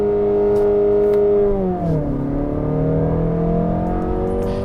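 A 2018 Mazda6 sedan engine blips loudly as it drops a couple of gears, its steady drone rising briefly, then falling and settling at a new pitch, heard up close with no talk.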